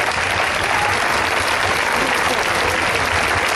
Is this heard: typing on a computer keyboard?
no